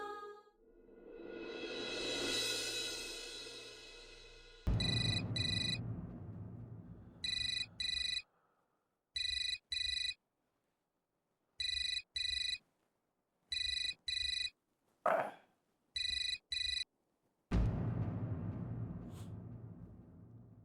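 A telephone rings in repeated regular bursts of two-tone trills separated by silences, loud and alone, framed by swelling music at the start and end.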